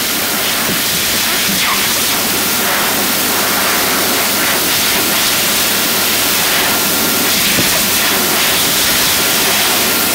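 A Dyson V hand dryer in refurbished public toilets at Kew Gardens blows a loud, steady roar of rushing air that holds without a break for the full ten seconds.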